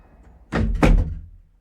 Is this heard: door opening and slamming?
yes